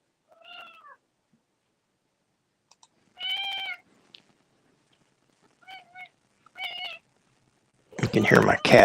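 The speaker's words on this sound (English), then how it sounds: "You can hear my cat in the background." A cat meows several times, clear and close, with pauses between the cries, during a thunderstorm, before a burst of louder noise at the end.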